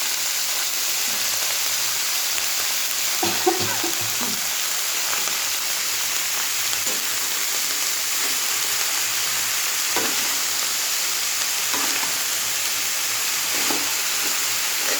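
Cabbage is stirred and fried in a pan with a continuous hissing sizzle, and scraping stirs of the utensil break through every second or two; no one speaks.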